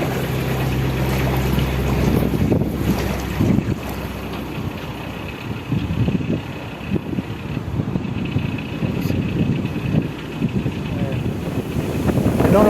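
Wind gusts roar against the microphone for several seconds over a narrowboat's low engine hum and lapping canal water between Llangollen and Chirk, with no voices.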